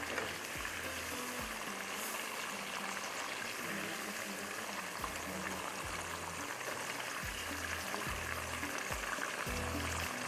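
Chicken and onions fry in a covered pan as Desi-style chicken angara cooks, making a steady dense sizzle and bubble that fills the whole stretch, with faint low knocks underneath and no talking.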